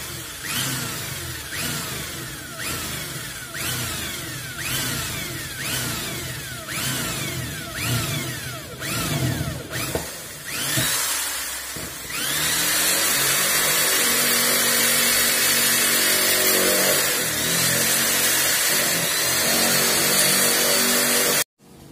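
A power drill bores a hole through the body of a Daihatsu Xenia or Toyota Avanza to route a stop lamp cable during a spoiler install. Close, loud repeated short whirring bursts give way to a long sustained whine.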